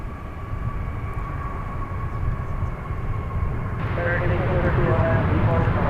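An Alaska Airlines Boeing 737-900 lands at DFW airport on arrival from Seattle, its steady jet engine roar rising in loudness and brightening toward the end, with a voice talking over it.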